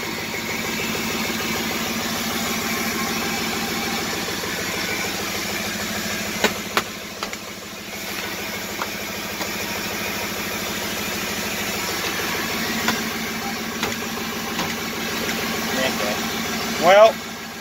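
A Ford 6.0 Powerstroke diesel in a flatbed truck idles after a cold start, a steady, loud, even rumble that continues throughout with a few brief clicks and knocks on top.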